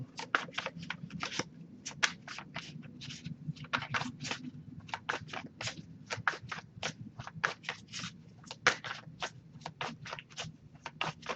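Tarot cards being shuffled by hand, a long run of quick crisp riffling bursts in an irregular rhythm, close and clear over a faint low room hum, with no talking.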